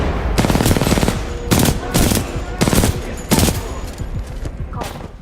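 Rapid automatic gunfire from the video game Titanfall 2, loud bursts of punchy shots repeating in several clusters with brief gaps, close and dense throughout.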